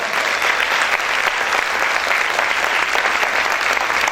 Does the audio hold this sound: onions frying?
no